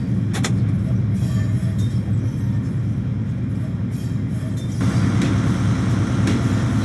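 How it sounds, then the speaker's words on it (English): A Class 70 locomotive hauls a train into a vast refinery terminal, its rumble and wagon clatter loud and continuous, swelling louder toward the end as it draws nearer. "And there's our train coming into the terminal."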